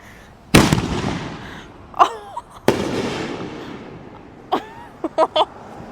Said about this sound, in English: we're gonna see what happens when we light them.